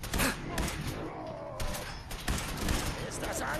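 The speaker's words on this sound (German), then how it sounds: "eine gut positionierte Explosion" Gunfire crackles in rapid bursts amid booming blasts during a firefight in Fallout 4, with heavy thuds and dense noise throughout and a voice speaking over parts of it.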